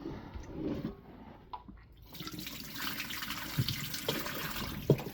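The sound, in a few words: washing rice in water by hand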